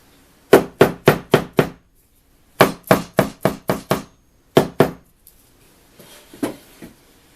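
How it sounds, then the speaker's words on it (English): A dead blow hammer taps on the front of a drawer during assembly of a Boahaus Model 1619 vanity: three sharp bursts of four to six quick, even knocks, close and loud, with faint shuffling at the end. "Using a dead blow hammer, I can tap on the front of that drawer and not cause damage."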